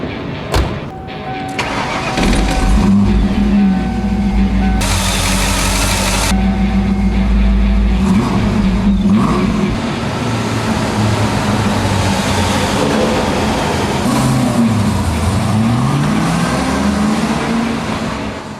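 A Ford SN95 Mustang with a 5-liter Windsor V8 and B303 camshaft cranks, fires and settles into a loud, close, lumpy idle with occasional revs.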